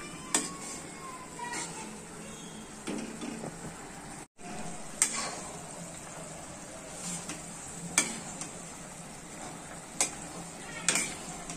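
A spoon stirs chicken chilli sauce in a sizzling pan, with soft scraping and sharp clinks against the pan at irregular intervals over a quiet, steady fry.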